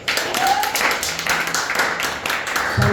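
A church congregation claps together during a worship service, a dense, steady patter of hands filling the space with voices mixed in throughout.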